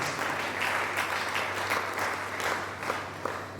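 A church congregation claps steadily, a broad, even wash of applause from many people lasting throughout, with a low hum underneath.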